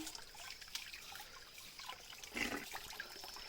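Cool spring water trickles and splashes softly at a village spring in Araku, a faint steady wash with one brief louder splash midway, no voices.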